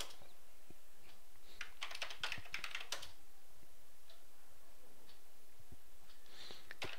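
A short command typed on a computer keyboard, heard as a close, quick run of light key clicks in two or three bursts over a steady background hiss.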